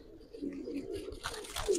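A female Giribaz pigeon gives a soft, low coo at close range, faint and brief, with light rustling and handling noise around it.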